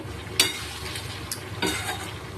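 Spiced unripe jackfruit being stir-fried in a pan for a shrimp dish: a low, quiet sizzle throughout, broken by two brief scrapes of a spatula against the pan.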